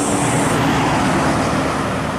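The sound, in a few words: Medan Jaya intercity bus passing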